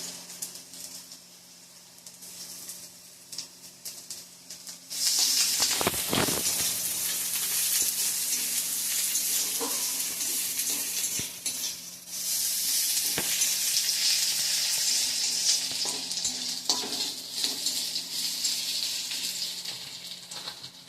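Oil sizzles steadily in a pan, a hiss that jumps suddenly louder as ginger is added for a soybean curry, with faint stirring scrapes and no talking.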